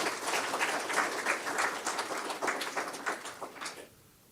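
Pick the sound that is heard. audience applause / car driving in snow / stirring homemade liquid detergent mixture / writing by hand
audience applause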